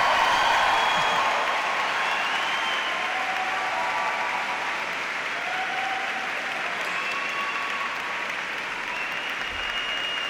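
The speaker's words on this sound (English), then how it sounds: "So can you please cheer, stamp, shout, applause, and say a massive thank you." Audience in a cathedral cheering and applauding graduates at a graduation ceremony: sustained, reverberant clapping with whoops and shouts rising over it, loudest at the start and holding steady throughout.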